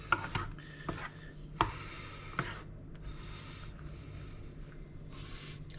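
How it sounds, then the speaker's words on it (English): A spoon stirs a curried Flygande Jacob dish in a pan, making faint scraping swishes and a few light knocks against the side, fairly quiet and unhurried. "I'm going to go ahead and stir it around so that the colors kind of blend together a little more"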